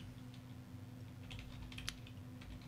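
Typing on a computer keyboard while writing a new office document, heard as soft, quiet clicks with a brief cluster of sharper keystrokes near the end over a low steady hum.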